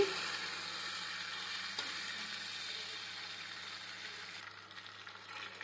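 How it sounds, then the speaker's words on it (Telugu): Masala macaroni pasta stirred in a hot pan, a steady soft sizzle with faint scraping of the spoon throughout, close and quiet with no talking. "ఇలా మసాలాలన్నీ బాగా పాస్తాకు పట్టేలాగా బాగా కలుపుకోవాలి"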